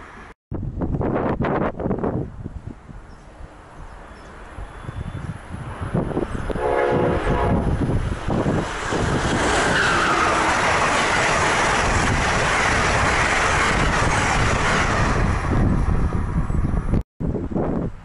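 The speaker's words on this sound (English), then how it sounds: "Two ACS-64s travel in the opposite direction with passenger trains made up of 9 AM fleets." Two Amtrak ACS-64 electric locomotives pass each other in opposite directions along the Delaware River, hauling passenger trains; a horn sounds, then a loud, sustained rumble and rush of cars passing close by with wind buffeting the microphone, alone without voices.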